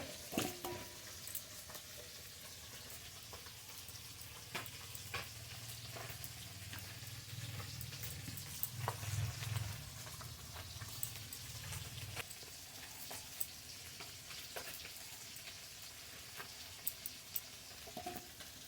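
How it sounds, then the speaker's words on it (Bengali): Native pakal fish frying in a pan, a soft steady sizzle and patter of hot oil running throughout, rising slightly in the middle, with no voices. "উল্টিয়ে পাল্টিয়ে মাছগুলো খুব ভালো করে ভেজে নেব"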